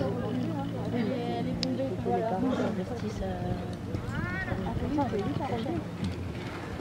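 Horses gallop with rapid hoofbeats during a 70 cm show-jumping challenge, heard under constant chatter and commentary from spectators nearby.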